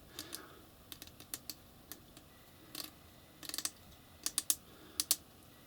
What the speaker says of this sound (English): So this hop is the clicky wheel style one.